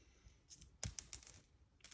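Metal washers, bolts and pins from a motorcycle wheel stand kit tumble out of a bag in one brief clattering spill, a dense jingle of small hardware lasting under a second, loud and close.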